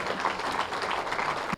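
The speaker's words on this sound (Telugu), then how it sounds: "గట్టిగా చప్పట్లు." An audience claps at a stage event as a speaker is invited up: steady, moderately distant applause of many hands that cuts off abruptly near the end.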